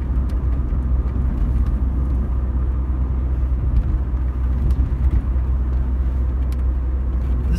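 A car drives along a quiet, winding country road in Denmark, its steady low engine and tyre rumble continuous and close, with no voices over it.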